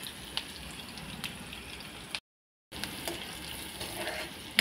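Onions fry in hot oil with a pinch of turmeric, giving a steady close sizzle with occasional stirring scrapes, broken by a brief silent gap before the crackle resumes.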